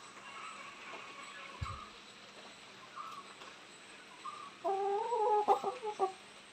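A hen clucks close by in a quiet farmyard with a low background hum, a short run of throaty rising clucks near the end after a faint thump earlier.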